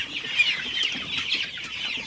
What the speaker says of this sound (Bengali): তো আমার 2টা সেটে মুরগি আছে।